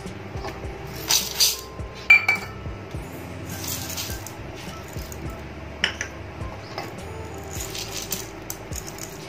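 Dry masoor and moong dal lentils poured into a big bowl, giving a close, scattered rattle of tiny clinks and patters with a few louder bursts, no talking.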